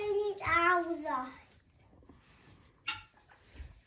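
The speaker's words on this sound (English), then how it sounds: "You can kind of hear the guinea hens make their noise. Their weird little cluckings." Guinea hens on a farm by a chicken coop let out a quick run of loud, nasal clucking calls up close, followed by quieter scattered squawks and rustling.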